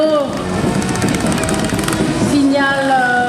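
Motorcycles ridden by women pass in a Women's Day parade in Kinkala, their engines making a loud, continuous buzzing drone that fills the scene while voices are heard over the noise.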